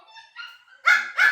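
A female Pomeranian gives a quick burst of sharp, high yips: faint whiny notes first, then two loud close barks in under two seconds.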